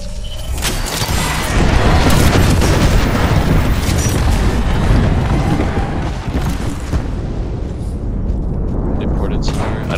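A bomb explodes in the Apex Legends video game with a loud, close, booming blast and rumbling debris that lingers for several seconds, mixed with gunfire and a player talking.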